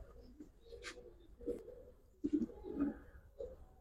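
Pigeons, including a male, cooing in a quiet loft, a few soft low throaty coos in separate bursts, fairly close.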